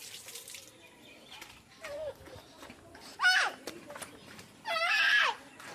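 Tap water runs in short bursts while a child's hands are washed, with a child's cries and brief chatter breaking in between.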